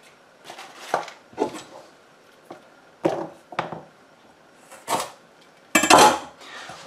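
Knife slicing rounds from the white end of a lemongrass stalk on a cutting board, several separate crisp chopping strokes spaced irregularly, close and fairly loud with quiet gaps between.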